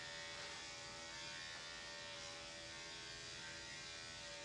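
Electric dog clippers fitted with a 10 blade and a 4 guard, a quarter inch, run on an old dog with back problems. They give a faint, steady, even buzz that stays constant throughout.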